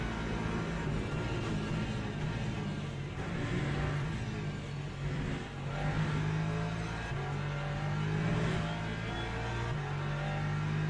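A race car engine in the racing game Le Mans Ultimate, holding a loud sustained drone that rises and dips with gear changes, plus faint tyre and track noise and no speech.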